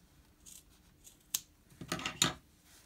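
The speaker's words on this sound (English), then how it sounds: "So I use my small scissors," Small sewing scissors trim loose threads on a cloth Days for Girls shield, giving a few crisp snips near the end, close and fairly quiet, with no talking.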